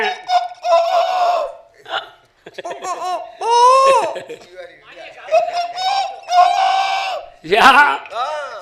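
Performer in a Tamil villu paattu devotional storytelling performance imitating a rooster crowing, giving several loud, close vocal crows and clucks with laughter mixed in.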